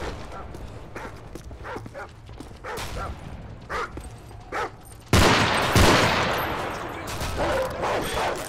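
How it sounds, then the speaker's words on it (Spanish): Dogs bark in short bursts amid gunfire and explosions in Call of Duty Modern Warfare, with a sudden loud blast midway followed by sustained heavy firing and battle noise. "Ha desplegado perros en su posición"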